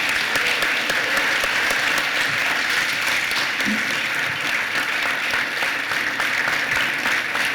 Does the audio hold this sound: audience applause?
yes